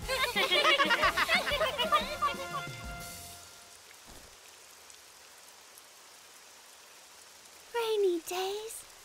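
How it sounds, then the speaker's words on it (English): Cartoon rain falls in a soft, steady hiss after a burst of bright tonal sounds, faint and even, with a short voice near the end. "Rainy days are so much fun!"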